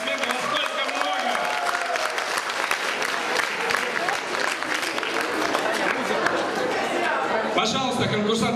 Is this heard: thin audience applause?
yes